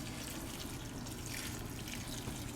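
Water steadily poured onto a coco coir substrate block for ball python bedding, a continuous close trickle and splash like a running tap, alone with no talking.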